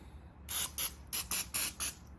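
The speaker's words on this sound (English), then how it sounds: "Pam butter spray, and I'm just gonna spray it" Pam butter-flavored cooking spray hisses onto a raw ribeye steak in six short, close bursts, each about a quarter second long, separated by brief pauses.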